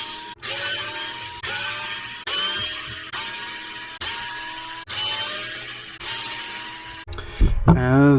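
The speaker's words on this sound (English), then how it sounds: "I'm going to come in here and remove these 8 screws" Screws being backed out of a DC10 RC drift car chassis with a power driver during a rear-section transfer: a run of repeated whirring bursts about a second apart, close and steady, with a short voice at the end.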